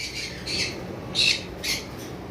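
Lutino red-eyed Fischer's lovebird squawking in a few sharp, shrill bursts, close and loud over faint background noise, with no talking.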